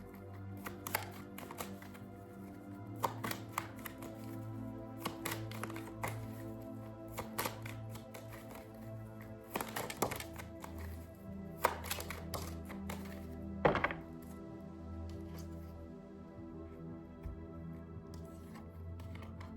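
A tarot card deck being shuffled by hand during a reading: repeated quick papery riffles and taps in irregular bursts, close and fairly quiet, with a few sharper snaps and no voice.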